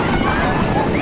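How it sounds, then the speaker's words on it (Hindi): Ocean waves surging and breaking at Marina Beach in Chennai, a steady, loud wash of surf with wind buffeting the microphone throughout. "कैसे उठ के आ रही है लहरें"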